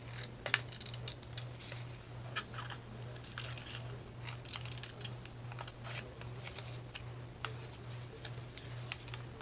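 Scissors snip through paper while paper roses are made, a series of quiet, close, irregular crisp cuts and rustles over a low steady hum.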